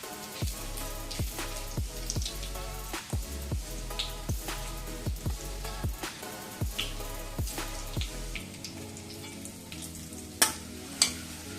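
Asafoetida, turmeric and masala fry in hot oil for a clam masala, crackling and sizzling with rhythmic stirring scrapes at a steady pace, close and alone, settling into a quieter sizzle toward the end.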